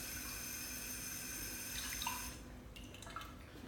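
Tap water runs steadily into a sink as a specific gravity meter is rinsed, a continuous hiss that thins out partway through, followed by a few scattered drips and light splashes, close and moderately loud.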